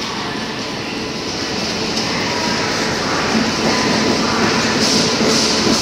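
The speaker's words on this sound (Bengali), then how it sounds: "তো হ্যাঁ, 19 নম্বর প্ল্যাটফর্মেই আমাদের ট্রেন দিয়েছে। এই যে দেখো ট্রেন দাঁড়িয়ে আছে।" A passenger train stands at platform 19 of a busy Kolkata railway station, giving off a steady, fairly loud mechanical hum and rumble mixed with the broad noise of the station.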